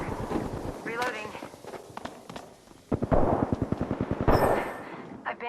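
Gunfire in the Apex Legends video game, with several rapid bursts of shots and sharp cracks over a low rumble, alongside voices and game chatter.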